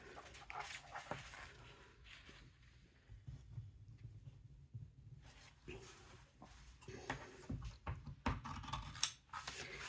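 Scissors cut cereal box cardboard for a junk journal in a string of sharp, close snips and crunches, separated by quiet pauses, with soft handling noises between the cuts.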